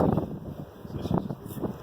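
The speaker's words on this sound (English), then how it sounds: "it's windy at the moment" Gusty wind buffeting the microphone, low rumbling bursts that swell and fade, with faint rustling in between.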